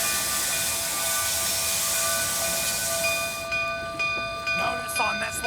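A Baldwin steam locomotive, number 484, with an inside frame and outside counterweights, running on a tourist railroad: a steady loud hiss of steam with a sustained whistle-like ringing tone that cuts off partway, followed by softer mechanical clanks.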